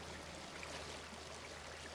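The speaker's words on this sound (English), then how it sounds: "This water sounds so loud right now." Flowing water ambience in the StarCraft II video game, a steady, faint stream-like wash of trickling water that continues evenly without breaks.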